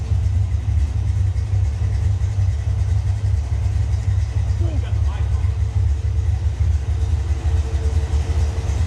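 A Ford Mustang Foxbody with Spintech mufflers runs at a steady idle, giving a loud, constant low exhaust rumble with no change in pitch throughout.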